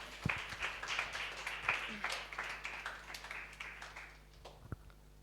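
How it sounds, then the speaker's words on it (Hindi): A congregation claps during a Sunday Hindi church service, with scattered, moderately loud applause that thins out and fades toward the end. "एक बार परमेश्वर के लिए जोरदार तालियां बजाएंगे।"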